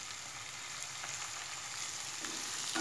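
Onions and tomatoes sauté in a pan for Gujarati sev tamatar sabzi, giving a steady close sizzle and fry hiss throughout, with no talking.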